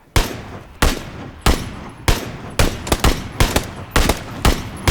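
Gunfire in PlayerUnknown's Battlegrounds, about a dozen loud, sharp single shots fired in a fairly regular rhythm, some paired close together, each with a short echoing tail.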